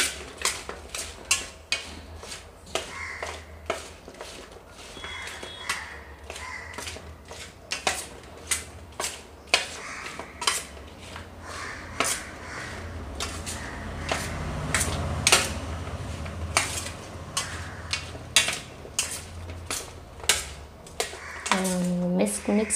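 Okra tossed with besan and spices in a bowl gives repeated sharp clicks and scraping taps in an uneven rhythm, close and moderately loud, with a few clinks near the end.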